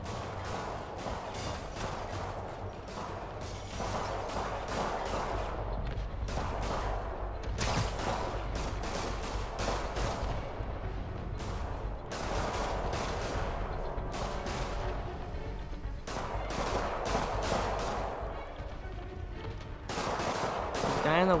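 Enemy gunfire in a Spider-Man video game, rapid bursts of shots repeating in clusters across the whole stretch, steady and moderately loud, with occasional faint talk underneath.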